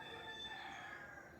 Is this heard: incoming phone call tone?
no